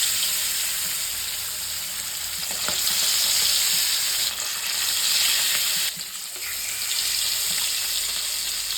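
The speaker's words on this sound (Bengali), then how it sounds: "তেলটা গরম হলে এবার এক এক করে মাছগুলো ছেড়ে দেবো" Fish fries in hot oil in a kadai, a loud, dense and continuous sizzle close by with faint spatter and a few stirring scrapes.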